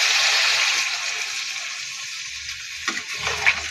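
Crab curry frying in a pan gives a hissing sizzle that eases off after water goes in. The hiss settles lower, then a couple of soft splashes and stirring knocks follow near the end, with no voices.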